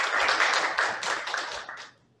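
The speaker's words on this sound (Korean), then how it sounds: "예, 박수 부탁드립니다." Brief burst of clapping from a small audience at a Korean Justice Party youth housing forum, dense at first and fading out within about two seconds.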